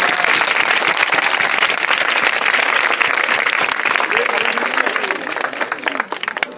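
A church congregation applauding and cheering for Jesus Christ, dense sustained clapping and crowd noise filling the room, loud and steady before thinning slightly at the end.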